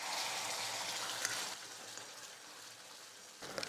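Steady crackling sizzle of dosa batter frying in hot oil, moderately loud and continuous, with a brief clink near the end.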